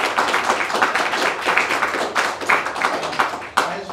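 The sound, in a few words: audience round of applause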